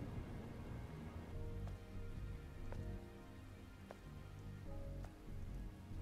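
Steady rain falling in the Stellar Blade video game, a dense soft patter over a low rumbling wash, with occasional sharper drop ticks standing out at irregular intervals; no voices.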